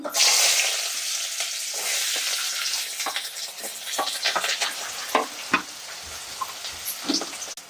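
Onions hit hot cold-pressed groundnut oil for a spinach gravy tempering, a loud burst of sizzling at first that settles into steady frying crackle with sharp stirring clinks and scrapes, no talking.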